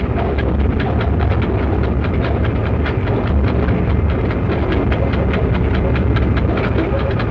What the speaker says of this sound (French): l'élève peut apprécier dès les premiers tours de roue avec quelle facilité le démarrage s'obtient